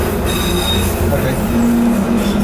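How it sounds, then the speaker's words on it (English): A Docklands Light Railway train running through London, with a steady loud rumble of wheels and brief squeals from the rail throughout, heard from on board. "maybe I'm on the DLR now"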